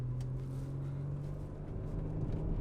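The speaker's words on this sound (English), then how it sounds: "we'll accelerate a little bit firmer, get up to speed, and we'll slow right down just to demonstrate the braking capability" A 2017 BMW M140i Shadow Edition with a 3.0-litre 335 bhp engine accelerates on a road, heard from inside as a steady low engine drone with road rumble rising slightly, fairly quiet and without talk.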